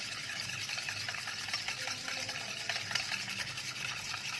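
Hot milk and eggs for a caramel custard are stirred in a pan, giving a steady close swishing and scraping with a faint liquid sloshing throughout the short stretch.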